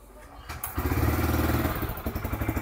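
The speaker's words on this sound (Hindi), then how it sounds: "सो चलो बाइक को करते हैं स्टार्ट एंड गाइस आप लोगों को एग्जॉस्ट नोट चेकआउट करवाता हूँ।" A Bajaj Freedom 125 motorcycle running on CNG starts up after a short whir and thump, then settles into a loud, close, steady single-cylinder exhaust putter with rhythmic pulses.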